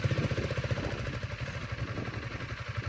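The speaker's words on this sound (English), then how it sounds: "I'm going to pull in the clutch all the way, start the bike" A Honda CRF300L Rally motorcycle engine runs close by, making a rapid, rhythmic thumping pulse that stays steady and fairly loud throughout with no talking.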